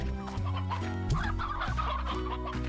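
Hens in the video game Slime Rancher cluck in a busy overlapping chorus, a steady close flock sound with no speech.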